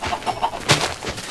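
Minecraft chickens clucking, a few short close clucks in quick succession with one sharper burst in the middle.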